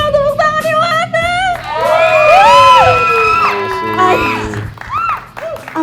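A talent show audition audience cheers and whoops loudly, with high shouts and a rising wave of crowd noise, while voices call out over it.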